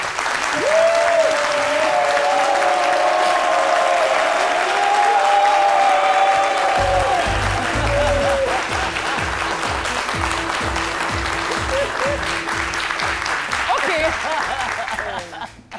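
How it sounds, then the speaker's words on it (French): An audience applauds author Kipré Pacom Christian on a midday television show, with loud, continuous clapping and crowd noise throughout, a voice speaking over it at the start and rhythmic music joining partway through. "Je vais vous demander donc de l'encourager et de l'applaudir très, très, très fort"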